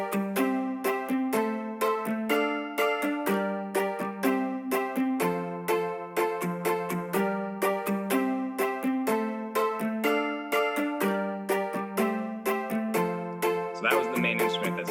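A bright, plucky synthesized plastic Stratocaster guitar tone plays a steady, rhythmic riff of short repeated notes, clear and close with no voices.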